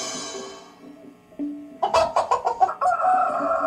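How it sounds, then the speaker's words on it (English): A farm rooster crows and clucks in a run of loud, close, rhythmic bursts after a quieter lead-in, with other farm bird calls around it. "if you like birds, then we got one for you."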